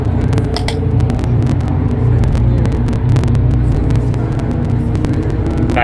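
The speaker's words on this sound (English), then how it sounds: "I feel like the BMWs in general in this game just don't sound great" BMW race car engine in a racing video game at Zandvoort, a dense steady mechanical drone with continuous buzzy rumble and rapid clicking transients over it, loud and close, no voices.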